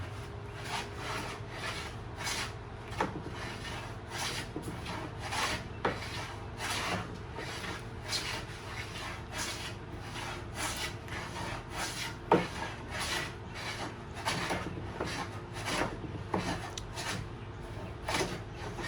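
A hand plane shaving wood, taking a rough board down in a steady run of rasping strokes about one per second, close and continuous throughout.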